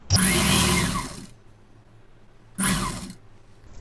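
A sewing machine stitches a blouse lining in two loud, close bursts, a longer run of rapid mechanical whirring, a pause, then a shorter run, with no talk.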